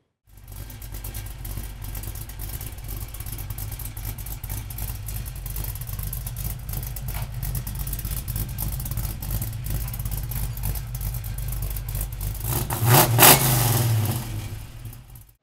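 A 1969 Chevrolet Camaro engine runs close by at a steady rumble, then a sharp, louder rev swells briefly near the end before settling.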